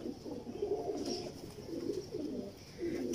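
Mistri Deen Missay pigeons, a rare fancy breed, coo in low repeated rolling phrases, fairly close, with soft ambient noise and no talking.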